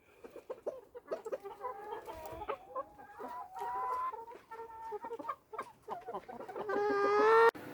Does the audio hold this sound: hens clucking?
yes